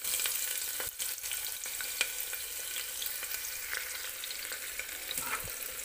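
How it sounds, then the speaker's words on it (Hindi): Sliced onions frying in a pan for vegetable pulao, a steady close crackling sizzle with scattered pops and the occasional clack of a stirring spoon, no voices. "प्याज को हम गोल्डन फ्राई करेंगे अच्छे से।"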